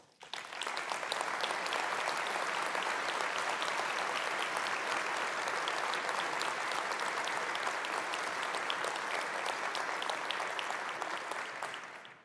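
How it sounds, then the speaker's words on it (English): A large conference audience at an aerospace forum plenary applauds the newly recognized AIAA Associate Fellows, a dense, steady wash of clapping that holds for about twelve seconds and then tapers off. "please join me in a round of applause for these outstanding individuals"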